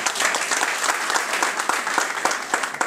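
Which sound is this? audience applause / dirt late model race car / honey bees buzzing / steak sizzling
audience applause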